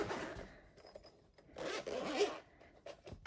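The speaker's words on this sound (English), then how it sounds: "And so the zipper is here." A zipper on a dusty rose Erin Condren 2023-24 LifePlanner cover is pulled in two soft, quick rasping bursts, close and fairly quiet, with brief pauses between the strokes and no voices.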